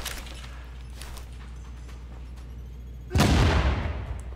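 Frag grenade explosion in The Division, a single loud, close blast partway through after quiet background shots, with a rumbling tail.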